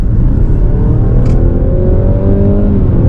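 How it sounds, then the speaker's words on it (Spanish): A 2023 Mazda CX-60 Takumi PHEV plug-in hybrid SUV accelerates at full throttle, its loud engine note rising steadily in pitch over a few seconds, heard close and with no voices. "cuando pisamos a fondo el acelerador, la respuesta es instantánea, mucho más que si solo tuviéramos el motor térmico"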